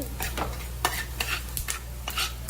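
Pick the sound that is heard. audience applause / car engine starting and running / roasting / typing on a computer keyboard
roasting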